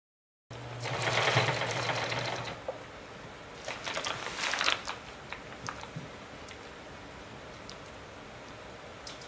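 A sewing machine runs a zigzag seam along the side of a tarp in one fast two-second burst, followed by scattered clicks and rustling as the fabric is handled nearby.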